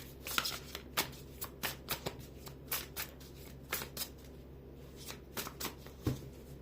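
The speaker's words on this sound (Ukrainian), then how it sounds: "гляньте тусую карти" Tarot cards being shuffled in quick riffling bursts, a dozen or so crisp snaps spread irregularly across several seconds, close and clear with no talking.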